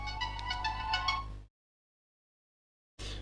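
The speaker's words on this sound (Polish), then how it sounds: "Przepraszam, tutaj zapomniałem ściszyć telefon." A mobile phone rings with a bright electronic ringtone of repeating tonal pulses for about a second and a half, then cuts to silence before resuming briefly.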